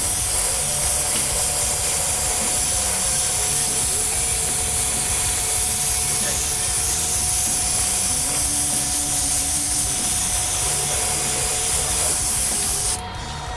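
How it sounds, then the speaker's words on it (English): A continuous, loud airbrush hiss spraying house paint runs steadily throughout, with a faint mechanical hum underneath and a brief drop at the very end. "just so you can sort of see what the airbrush is doing"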